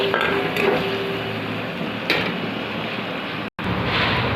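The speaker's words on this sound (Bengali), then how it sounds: "এই পেঁয়াজটা ভাজা হয়ে যাক।" Onions fry in a pan with paneer for a home-cooked dish, giving a constant loud sizzle with light clinks of stirring and a brief cut-out near the end.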